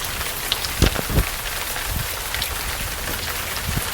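Steady rain falling outdoors near a stable, a dense even patter with a few louder drops striking nearby, no voices.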